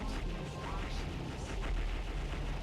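Explosions and laser blasts from the Star Fox Assault video game fill a dense, continuous stretch of battle noise, with booms and crashes layered closely together at steady loudness and no clear gaps.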